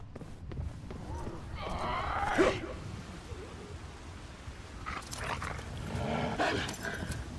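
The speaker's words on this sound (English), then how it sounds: "I guess there are worse things than chasing a dog through a cemetery" A dog in a cemetery in Resident Evil 6 barks in two short bursts, first near the start and again toward the end, over a low rumbling game ambience with someone speaking briefly.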